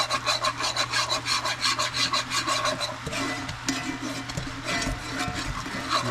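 Whisk scraping steadily through a roux in a pan over raised heat, a fast rhythmic rubbing and clicking of wire on metal, close and fairly loud, with no voices.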